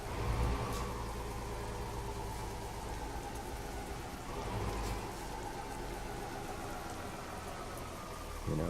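Steady in-game rain drums on a truck cab in Euro Truck Simulator 2 with ProMods, a constant hiss of droplets over a low engine drone, with no talking.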